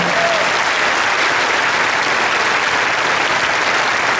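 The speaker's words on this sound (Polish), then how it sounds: "Wielkie brawa." Loud, sustained ovation fills the reopened Urania sports and entertainment hall in Olsztyn, a dense wall of applause from a large crowd throughout.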